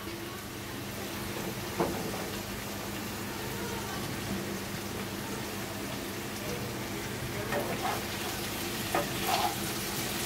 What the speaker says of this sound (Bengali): আমি আর একটু নেড়ে চেড়ে নিই